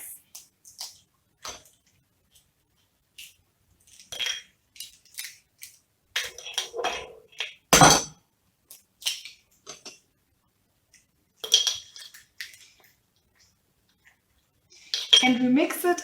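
A fork clinks and scrapes against a bowl while stirring eggs into mashed bananas, giving scattered short taps in irregular bursts, some louder strikes, with brief pauses between.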